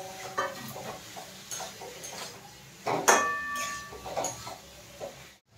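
A spatula stirs and scrapes egg and potato in a pan for Bengali egg curry, with scattered clinks and a sharp metallic clatter midway over a soft frying hiss.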